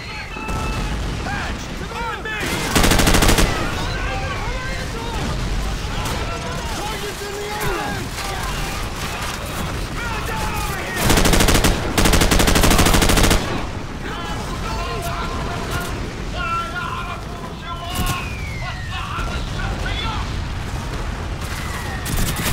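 Gunfire and heavy explosions rattle through a Call of Duty 4: Modern Warfare battle, with dense volleys of shots, several loud booming blasts and shouting voices throughout.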